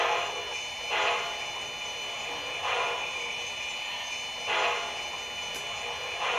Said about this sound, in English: And the locomotive sound start up at 11 volts.